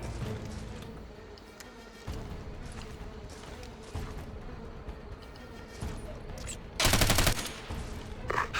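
Bursts of gunfire in the Ghost Recon Advanced Warfighter 2 video game, scattered single shots and then a loud, dense automatic volley near the end, set over a low battlefield ambience.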